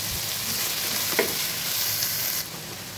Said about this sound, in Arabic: بلشوا يقبلوا معنا البصلات مثل ما شايفين